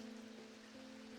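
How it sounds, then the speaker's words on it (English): Steady, even rain falling in the Strange Antiquities video game, a soft continuous patter over a low sustained tonal hum, with no talk. "I love this rain"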